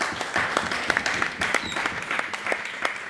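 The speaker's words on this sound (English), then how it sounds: "I know some people clapping and some people aren't" An audience claps at a Democratic Labour Party branch meeting, a steady moderately loud patter of many hands filling a few seconds, with faint voices mixed in.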